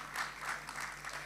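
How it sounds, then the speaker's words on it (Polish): Audience applause at a hall concert where the room sang along with a music group, a short, steady patter of many hands at moderate loudness with no talk over it. "Tak, brawa, brawa. Dzisiaj braw nie może zabraknąć."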